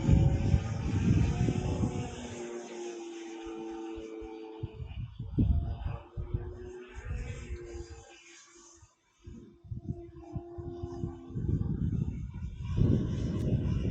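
An E-Flite Night Timber X radio-controlled airplane, around 1.2 metres in wingspan, flies on a windy day, its electric motor whining and fading as it passes at varying distance, with wind rumble and a voice nearby.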